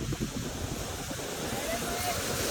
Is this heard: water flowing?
yes